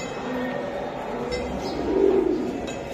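Army-breed pigeons cooing in a loft, a soft low throaty coo swelling up briefly near the end over faint background noise, with a few light chirps, no voices.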